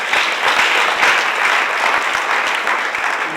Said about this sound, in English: let's give another applause to our Lord.